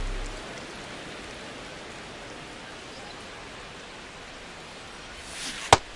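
Rain falls steadily in the MLB The Show baseball video game, a dense even hiss of drops on the surface throughout, closed by one sharp brief knock near the end.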